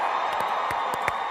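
Cheering crowd of attendees from the Americas at a Nu Skin Live corporate event, a steady roar of voices in a large hall with a few sharp whoops and claps standing out.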